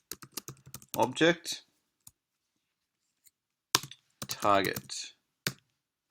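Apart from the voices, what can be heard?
typing on a computer keyboard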